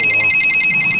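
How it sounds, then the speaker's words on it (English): A telephone rings in the video game Bad Milk, a loud, fast-trilling electronic bell that pulses steadily through the whole second. "Oh, well. The phone again."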